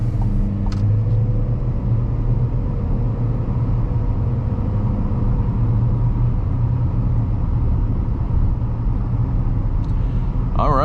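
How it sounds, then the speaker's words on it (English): Low, steady road and tire hum inside a 2025 Chevy Equinox cruising at 50 mph, a quiet constant rumble filling the cabin with a short clatter at the start and end. "I'm getting the slightest hum of tires"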